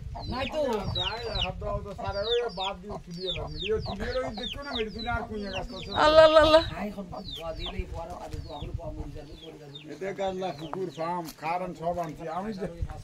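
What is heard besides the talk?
chickens clucking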